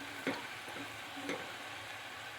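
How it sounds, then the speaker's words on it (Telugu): Shredded cabbage sizzles steadily in a pan for a cabbage and egg curry, with a couple of soft scraping stirs marking the continuous frying hiss. "పచ్చివాసన పోయేంత వరకు కొంచెం ఫ్రై చేసుకుంటే సరిపోతుందండి"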